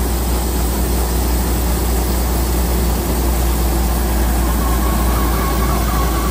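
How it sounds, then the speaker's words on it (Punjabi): A combine harvester engine runs during the wheat harvest, a loud, steady, close mechanical drone with deep low rumble that holds unchanged for the whole stretch, with no voices. "ਆਪਾਂ ਲੱਗੇ ਆ ਕਣਕ ਕੱਢਣ ਕੰਬਾਈਨ ਆ ਗਈ ਆ"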